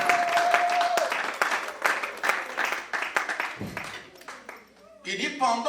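A congregation at a Sunday church service breaks into applause, a broad wash of clapping with scattered sharper claps that thins out toward the end, alongside speech.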